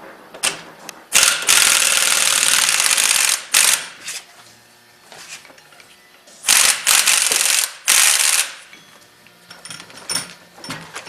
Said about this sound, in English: an impact wrench takes that off really nicely